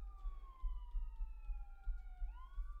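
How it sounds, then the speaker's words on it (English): Ambulance sirens wail, sweeping slowly downward, then rising again, sounding moderately distant over a low rumble of traffic or wind. "That sounds like ambulances."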